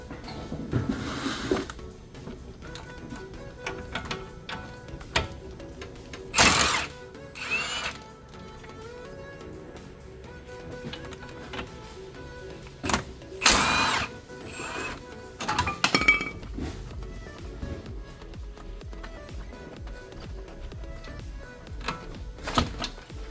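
Power tool buzzes in short bursts, removing two 18mm brake caliper nuts on a Mercedes C-Class W204 front brake, with metallic clinks between runs; no talk.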